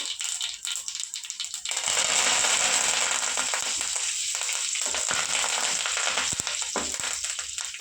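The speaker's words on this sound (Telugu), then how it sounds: "వేగిపోయింది కదా, ఇప్పుడు కొంచెం అంతా కరివేపాకు వేసుకున్నాము." Curry leaves hit hot oil in a pan and crackle into a loud, steady sizzle with sharp spattering pops, starting quieter and then holding strong, close up with no talking.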